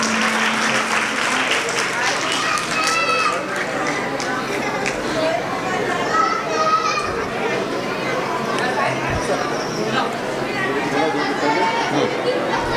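Audience applause at a departmental Urdu teachers' gathering in Patur, a dense steady wash of many hands clapping throughout, with crowd chatter and voices mixed underneath.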